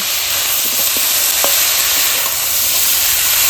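Chopped tomato sautéing in a pan with chili and cumin powder for a cauliflower-stalk dish, a loud, steady, close sizzle with a few faint utensil taps and no talk.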